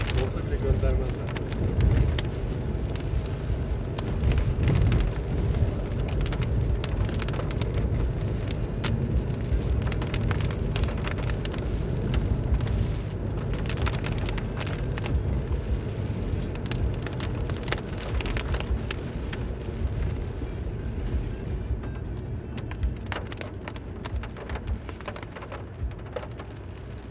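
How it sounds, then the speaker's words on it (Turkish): Steady rain patters and hisses on a moving car, blended with continuous road and engine rumble from inside the cabin, with faint voices now and then. "Yağmur yağdı ya."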